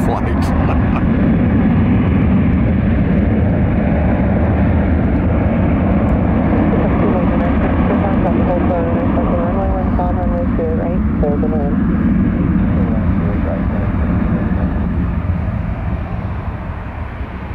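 Boeing 747 jet taxiing on the runway at SFO, a steady loud broadband engine roar holding throughout at close range, with faint tonal whine partway through.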